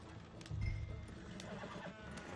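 In the Red Dead Redemption 2 video game, a horse gives a brief neigh over steady clip-clopping hooves, moderately quiet with faint background ambience and no talk.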